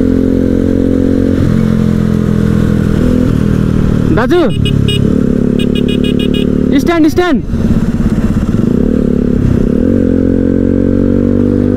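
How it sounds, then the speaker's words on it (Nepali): A motorcycle on a road ride toward Banepa, Nepal, hums close and loud with a steady engine drone, then rises in a couple of quick revs with clattering, while someone talks over it. "कुद्यो त यार बाइकटा आज।"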